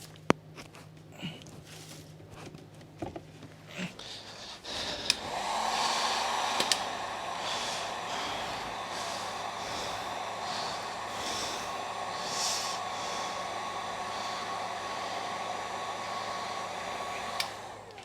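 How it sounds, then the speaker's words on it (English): A heat gun blows hot air while an old part is pulled off a Kirby Generation 3 vacuum during restoration. A few seconds of handling noises come first, then a steady, close whirring blast that runs to the end. "Let me use my helpful friend here, the heat gun."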